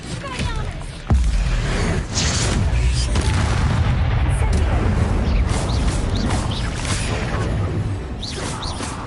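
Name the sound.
Incendio fire spell explosions in the video game Hogwarts Legacy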